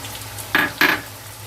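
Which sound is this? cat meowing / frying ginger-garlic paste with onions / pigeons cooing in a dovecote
frying ginger-garlic paste with onions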